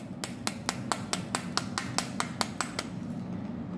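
Crispy deep-fried poppy seed fritters (posto bora) are handled, giving about a dozen sharp, crisp, evenly spaced clicks in quick succession, close and clear.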